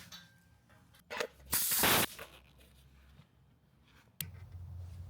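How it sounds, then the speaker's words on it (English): A pneumatic brake bleeder, driven by an air compressor, works at the master cylinder of a Lexus GX460: a short tap, then a loud burst of air hiss lasting about half a second. A faint background rumble runs under it and is joined later by a brief click. "Using the pneumatic bleeder here, we're going to start with the brake master cylinder."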